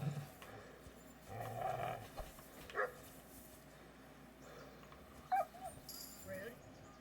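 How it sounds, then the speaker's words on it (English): A dog in Kingdom Come: Deliverance II whimpers after being attacked, giving a few short, faint whines and yelps under someone speaking. "Attacking your own dog."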